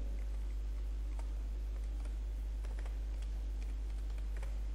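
Numbers are typed on a computer keyboard as light, irregular key clicks, quiet and close, over a steady low hum with no talking.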